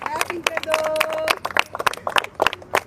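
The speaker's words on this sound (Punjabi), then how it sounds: "ਤਾੜੀਆਂ ਮਾਰੋ ਸਾਰੇ ਜਾਣੇ" A crowd at a railway station claps in scattered, uneven bursts while people talk over the clapping throughout.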